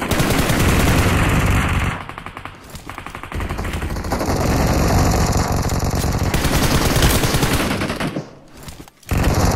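Sustained, loud gunfire from a fight in a zombies mode video game, with dense automatic bursts filling most of the clip and brief dips before the shooting resumes.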